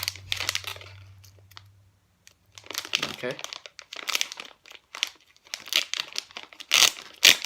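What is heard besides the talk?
opening Pokémon and Magic card pack wrappers with scissors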